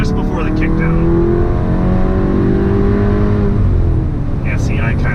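A tuned car with a DSG gearbox revs steadily upward just before kickdown, a loud close engine drone with rising tones filling the cabin, and a voice speaks briefly over it.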